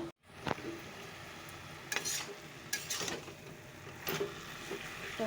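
Jute leaves cook in a pan with a bit of dried red chilli, giving a steady close sizzle broken by a few sharp clinks and scrapes of stirring.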